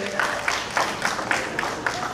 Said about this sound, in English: the big applause moment